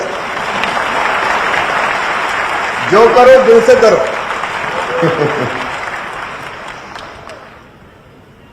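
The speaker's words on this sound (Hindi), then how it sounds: "तालियां बजे तो ढंग से बजे" An audience at a government business app launch in Bhopal breaks into loud, sustained applause. A speaker's amplified voice briefly cuts over it midway, and then the clapping fades out toward the end.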